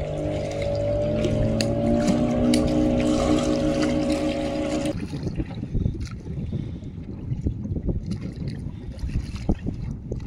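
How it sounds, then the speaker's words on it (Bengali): A motorboat on the reservoir at Maithon Dam drones steadily and loudly close by for about five seconds, then cuts off, leaving splashing water and wind noise. "এই নৌকার আওয়াজটা শুধু শুনতে যে কি ভালো লাগে"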